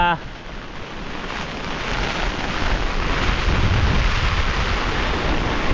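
Heavy rain drumming on an umbrella as Cyclone Jasper's wind gusts and surf roar nearby on the coast, a dense continuous rush that grows slightly louder and buffets the microphone.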